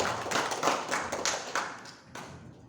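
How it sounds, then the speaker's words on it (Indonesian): An audience at a HIPMI Kebumen business association work-program event gives short, moderately loud applause, claps dense at first and thinning out over under three seconds. "Tepuk tangan semuanya untuk BPC HIPMI Kabupaten Kebumen."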